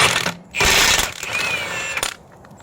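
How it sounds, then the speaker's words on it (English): A power tool works the nut off the original rear axle of a 1969 Firebird 400 fitted with a Safe-Track posi rear end: loud, close rattling bursts with short gaps between them. "Now we'll pull the nut off"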